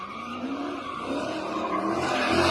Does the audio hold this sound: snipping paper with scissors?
no